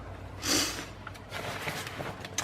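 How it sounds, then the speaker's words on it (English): A couple of soft, breathy sniffles from someone getting over a cold come close to the microphone, quiet and spaced apart against faint room noise. "Sorry about the sniffles"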